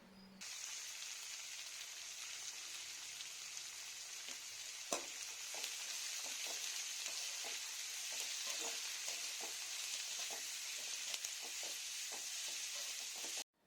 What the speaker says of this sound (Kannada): ಹೀಗೆ ಈರುಳ್ಳಿಯನ್ನು ಕಂದು ಬಣ್ಣ ಬರೋವರೆಗೂ ಹುರಿದುಕೊಳ್ಬೇಕಾಗತ್ತೆ